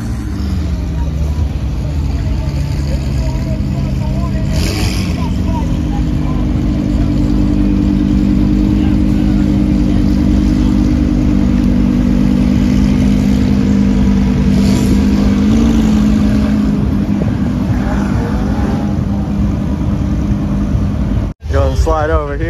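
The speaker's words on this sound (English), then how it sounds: "Here comes a nice Corvette too." A Corvette sports car at a Sarasota cars and coffee meet, its engine droning steadily and swelling as it drives past, loud and close over continuous crowd chatter and talk.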